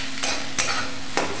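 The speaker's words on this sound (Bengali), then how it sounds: "এবার একটু মিশিয়ে নেব। এই সয়া সস আর টমেটো সস" A potato stuffing for rolls is stirred with soy sauce and tomato sauce in a hot pan. A spatula scrapes and clatters three times at a steady rhythm over a continuous soft sizzle, heard close up.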